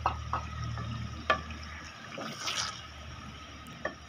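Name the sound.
water being added to cooking liver and lung masala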